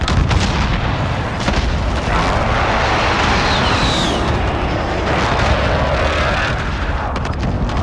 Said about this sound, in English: Allied precision airstrike in.